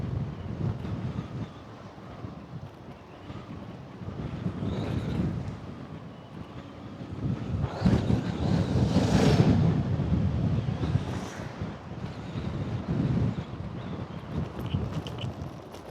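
Strong wind buffets the microphone while a Segway GT3 Pro is ridden at night, with gusty low rumbles swelling and fading throughout.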